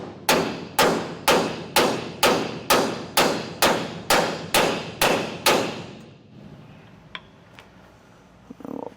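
Hammer blows drive the collar of a wet trailer equalizer bolt with castle nut into the shackle hangers: eleven loud, evenly spaced metallic strikes ringing close by, then a few seconds of quiet shop ambience with faint clinks.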